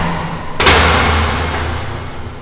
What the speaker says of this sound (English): These obviously come with heavy steel doors.